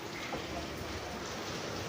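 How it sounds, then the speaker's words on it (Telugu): Heavy night rain in Tirupati pours down as a dense, steady hiss that fills the short stretch, even and unbroken, with no voices. "చూడండి మొత్తం ఏమీ కనిపించట్లేదు, అంత వర్షము"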